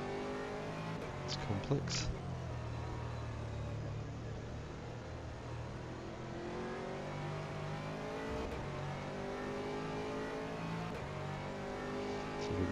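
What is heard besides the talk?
Audi GT3 race car engine at Zandvoort in rFactor 2 video game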